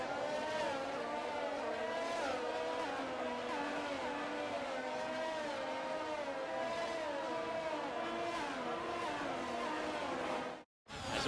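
F1 race cars on a formation lap in the racing video game F1 22 make a continuous, dense engine drone with wavering pitch that holds steady and loud, then cuts out briefly near the end.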